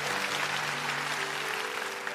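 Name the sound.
applause in church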